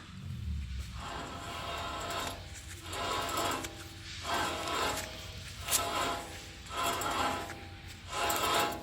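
Worn front wheel bearing on a Toyota Tacoma, a rhythmic grinding hum that swells and fades in repeated cycles as the wheel turns, loud and close with no talking.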